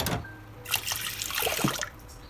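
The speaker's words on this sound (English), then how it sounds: "rinse each item under clean running water" Water runs from a tap into a kitchen sink as dishes are rinsed, a steady close splashing stream that swells and fades over a couple of seconds with no talking.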